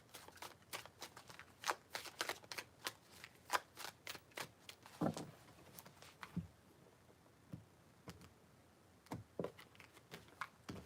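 Tarot cards being shuffled by hand, a long run of quick crisp riffling flicks in bursts with brief pauses, quiet and close.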